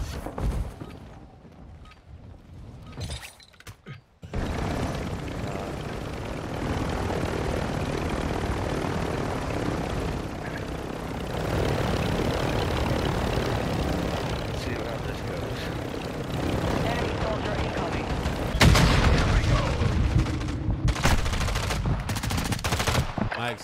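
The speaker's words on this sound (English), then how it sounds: "Exploding helicopter didn't kill anybody." Video game helicopter rotor and engine drone continuously, with bursts of gunfire and an explosion-like swell near the end, and people talk over it.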